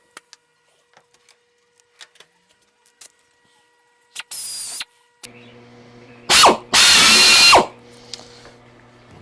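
A power drill bores holes in the metal flap handle bracket of a Zenith 701 experimental airplane, with two loud whining bursts and a lower motor hum between them, preceded by faint clicks and handling noises, close up and without talk.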